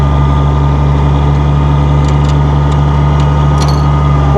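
A 1966 Oliver 1650 row crop tractor runs in third gear, its engine giving a loud, steady low drone with a strong hum and a few faint metallic clicks on top, close up and with no voices.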